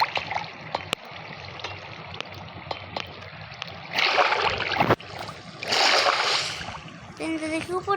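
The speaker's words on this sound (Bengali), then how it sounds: "পানিটা আসতেছে" Flowing water in the Minecraft video game rushes in two loud splashing surges midway through, between scattered sharp clicks and a lighter steady trickle.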